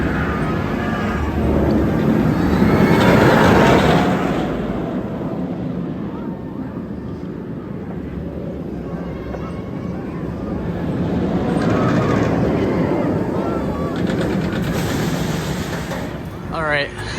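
Raging Bull roller coaster at Six Flags Great America on a ride, a loud continuous rush of wind and rattling track noise swelling and easing as the train runs, with riders' voices mixed into the roar.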